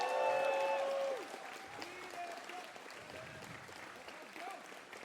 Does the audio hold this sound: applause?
yes